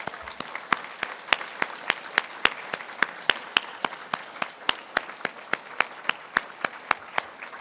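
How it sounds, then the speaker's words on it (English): Applause at a service excellence awards dinner rings out in a steady, even run of crisp hand claps, about four per second, for nearly eight seconds with no talking. "let's give them all a big round of applause"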